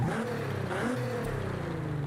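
A turbocharged car in Forza Horizon 5, tuned with an upgraded exhaust and intake and near 400 horsepower, holds a steady mid-range engine drone with a slight intake growl, close and continuous for a couple of seconds.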